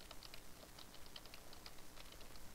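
Fingers tap at a computer keyboard in a quick, uneven patter of light clicks, faint and close, continuing steadily for a couple of seconds with no talk.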